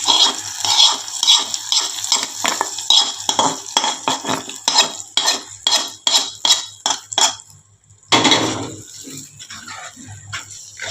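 A spoon scrapes and stirs pumpkin curry in a pan on a switched-off stove. Rhythmic metallic strokes and clinks continue, with a short pause before the stirring resumes.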